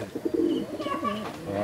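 Cooing from a small Madrasi (Chennai breed) female pigeon, a few soft, low rolling coos close by with another bird's coo and faint background chatter mixed in.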